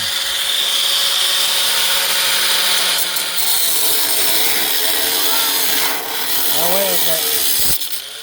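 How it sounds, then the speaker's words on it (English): An angle grinder in use during a golf cart build gives a loud, steady whine with harsh grinding hiss, briefly easing off a few times, while someone talks over it. "Angle your grinder down."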